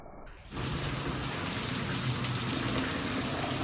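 Heavy monsoon rain pouring down steadily, a dense, continuous hiss that starts abruptly after a brief quiet moment and stays loud and even with no voices.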